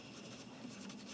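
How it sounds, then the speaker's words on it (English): Pen writing a name on a paper artist statement, a faint continuous scratchy rub heard close up and alone for about a second. "I'm going to write my name on my artist statement"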